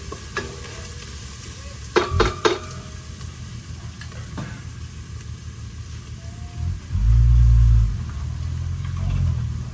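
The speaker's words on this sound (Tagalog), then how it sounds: "So we got the onions cooking." Onions sizzle steadily in a frying pan, with a few sharp clinks of a utensil early on and a low rumbling swell of noise later.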